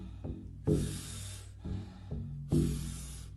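Powerful Wim Hof breaths through the mouth, taken while lying down: a rhythmic cycle of rushing, airy inhales and exhales, each a loud hissing burst, repeating close and unaccompanied.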